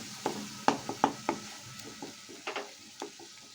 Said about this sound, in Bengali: জলটা দিয়ে মশলাটা একটু কষিয়ে নেব।